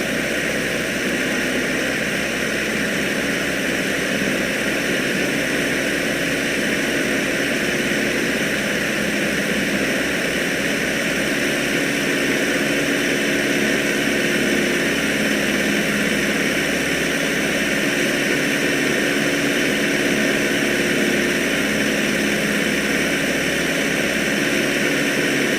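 Steady, loud drone of an aircraft engine in Microsoft Flight Simulator X on approach to an airport with the throttle reduced, a continuous hum with no break.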